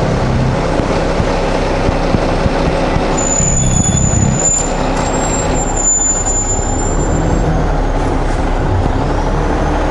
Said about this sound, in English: I see a truck coming up beside us here. We'll let the truck go first.